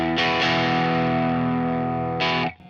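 Electric guitar on its bridge pickup driven through a Tube Screamer overdrive: a sustained distorted chord rings out, a second strum follows shortly after and another near the end before it is cut off.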